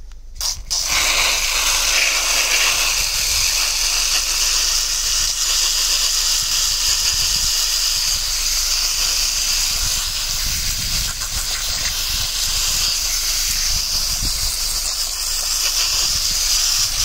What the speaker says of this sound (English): all I do when I do my pond maintenance, just give that a rinse off